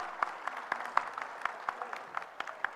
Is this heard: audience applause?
yes